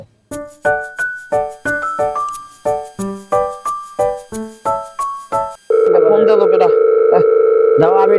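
A loud phone ringtone plays a rapid series of electronic tones, then shifts to a sustained steady tone with a voice underneath.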